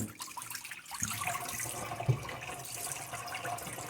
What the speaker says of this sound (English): now I'm just pouring out the liquid.